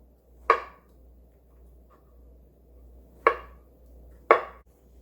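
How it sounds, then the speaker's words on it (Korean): Thick slices of fresh shiitake mushroom cut with a kitchen knife produce three sharp, isolated thuds on a cutting board, the first alone and the last two closer together, in an otherwise quiet kitchen. "표고버섯 썰어 줄 건데요"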